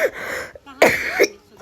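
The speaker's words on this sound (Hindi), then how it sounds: "बीच में खांसी कर रही हूँ" Two short, sharp coughs from a single person, close and loud, separated by a brief pause.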